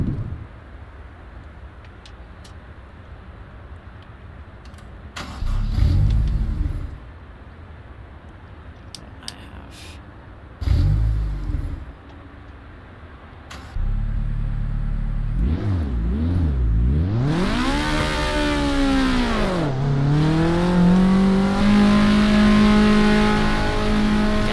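Supercar engine in Assetto Corsa Evo revving hard, with short throttle blips early on and then a loud sustained run where the pitch climbs, dips and rises again through gear changes before settling into a steady drone.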